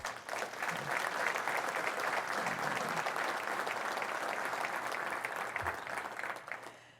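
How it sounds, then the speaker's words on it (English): Sustained applause from a sizable crowd, loud and even throughout, fading slightly at the end. "So I think he deserves a great round of applause."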